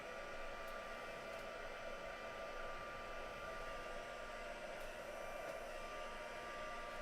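Hair dryer blowing steadily and close, drying sprayed glossy paint on a craft piece, a constant loud whooshing roar throughout with no talking.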